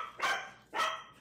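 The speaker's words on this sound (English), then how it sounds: "I don't know what she's barking" A puppy barks twice indoors, two sharp close yips about half a second apart, with quiet room tone between them.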